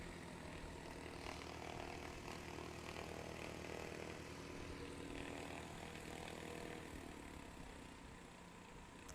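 A Maule propeller plane comes in for a STOL landing at Ontario Municipal Airport, its engine and propeller giving a steady, distant droning hum that holds level and eases slightly toward the end.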